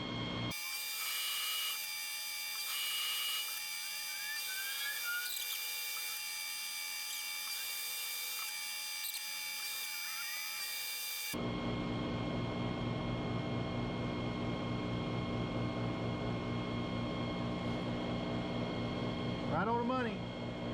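A lathe turns down a wrist pin for a bearing, giving a steady mechanical hum with tonal whine that shifts into a louder, rougher machining drone partway through, with faint speech over it.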